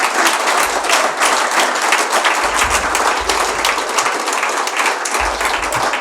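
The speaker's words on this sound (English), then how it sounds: "please give your panel a round of applause." A crowd applauding a panel at a business report launch event, many hands clapping at once in a steady, full round of applause.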